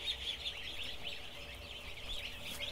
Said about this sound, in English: we're gonna let the ducklings out